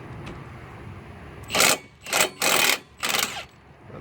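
A ratchet loosens strut bolts during a front wheel bearing replacement, giving four short bursts of rapid mechanical clicking close by, separated by brief pauses over a faint background hum.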